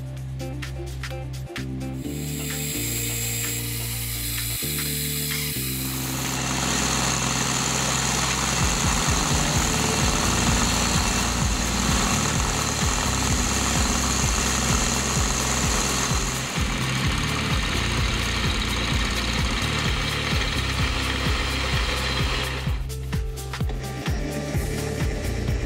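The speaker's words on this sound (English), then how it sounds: "So the next step was to transfer it to the mill to cut the four flutes." Milling machine cutting four flutes into a light-duty dovetail cutter blank, a loud sustained grinding and chattering roar with a rhythmic low thump, running continuously for most of the time.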